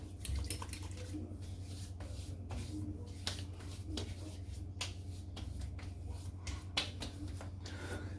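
Menthol fougère aftershave splash is slapped onto the face and head with wet hands, giving a close, irregular series of sharp wet pats over a low background hum.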